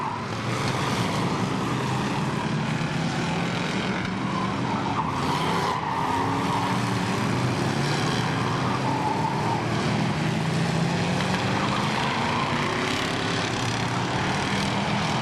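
Race cars lapping a short oval at KilKare Speedway during a figure-eight race, a continuous loud roar of several engines with tire noise, passing close and steady throughout with no talk.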